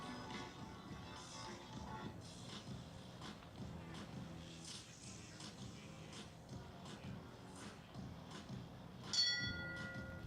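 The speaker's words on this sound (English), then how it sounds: "The bell sounds now for Unlimited" A single bright start bell rings out near the end over steady show jumping arena ambience, during a $500 1.30m speed class, with hoofbeats and murmuring crowd noise throughout.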